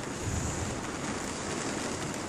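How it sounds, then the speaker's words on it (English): Rain falls steadily outside an RV at a flooded lakeside campsite during a storm. A broad, constant hiss of rainfall continues evenly with no voices. "and it's still raining."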